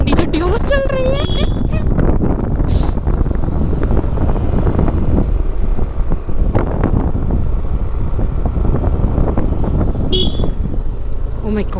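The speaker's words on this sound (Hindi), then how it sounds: "बहुत ठंडी ठंडी हवा चल रही है।" Cold wind roaring across a microphone during a motorcycle ride on a mountain road in Himachal, a constant loud rush with people talking over it and a brief horn toot.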